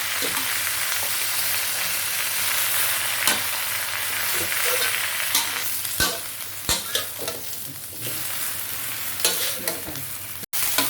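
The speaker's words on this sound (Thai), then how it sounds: "ก็นำผักใส่กระทะเลยนะคะ แล้วก็ผัด" Steady crackling sizzle of vegetables stir-frying in a hot pan, with occasional scraping clacks of a spatula stirring, close and continuous.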